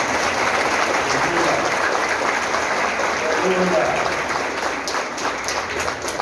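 A church congregation applauds during a youth leaders' conference, a broad even wash of clapping from many people sustained throughout, with a voice faintly audible underneath.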